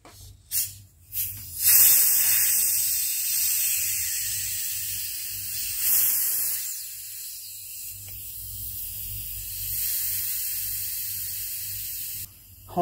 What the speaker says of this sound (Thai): เดี๋ยวเราจะมาลองเปิดชิมนะเพราะว่าเนี่ยตอนนี้ขวดบวมตึงเลยค่ะ